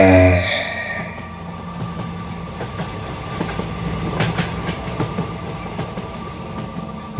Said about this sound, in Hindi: रात का वो एक्सप्रेस ट्रेन तब काफी तेजी से एक ब्रिज को क्रॉस कर रहा था।